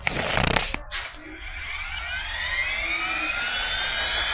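Whirring rotor and engine noise of a game helicopter, with a sharp burst at the start, then a steady rising drone that fills the rest of the clip.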